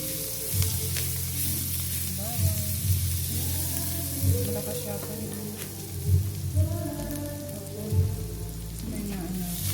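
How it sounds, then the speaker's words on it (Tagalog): Garlic sautéing in a pan gives a steady, close sizzle with occasional stirring knocks, while a voice talks briefly over the frying. "Gisa na natin yung guys, bawang."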